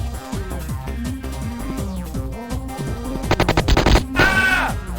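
Rapid machine gun bursts from a Sega Saturn shooter, a dense rattling volley cutting in loud over steady game music and effects near the end.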